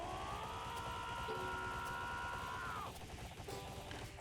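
Gunfire from a gun attack in the Roblox game Your Bizarre Adventure, a dense, steady stream of synthetic shots with a sustained whining tone over it, loud and continuous, ending in a dip near the close.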